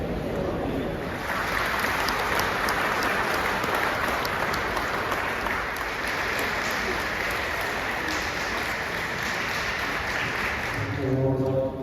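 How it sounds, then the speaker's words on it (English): An audience applauds steadily at the prize giving of the Boccia UK Championships 2025, with a broad, even wash of clapping that holds for about ten seconds before tailing off. "Big round of applause."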